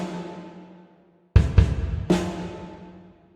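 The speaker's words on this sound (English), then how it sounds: "now this reverb is applied to both the kick drum" Drum kit hits drenched in a large hall reverb from Kontakt 6, with kick, snare and hi-hat: a decaying tail, a short silence, then three sharp hits with long reverberant washes ringing out, no voices.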